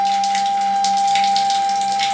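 Water runs through a household shower valve, a steady rushing hiss with a constant mid-pitched whine riding on top, continuous and close, with no talking.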